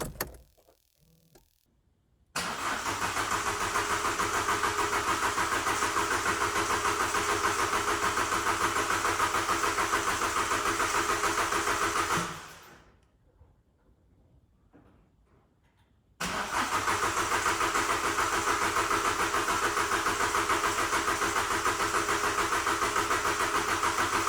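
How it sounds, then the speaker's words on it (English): A broken Ford SportKA SE cranks in two long, loud, steady bursts separated by a short pause, the starter churning on without the engine catching, close up and with no talking. "I don't like the fact that it won't start."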